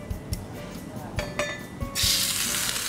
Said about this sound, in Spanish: Vamos a poner a sellar ese pescado.